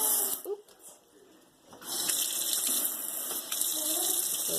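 Water runs steadily from a repaired faucet after the valve is turned back on, starting softly then swelling into a continuous close hiss of flow from about two seconds on.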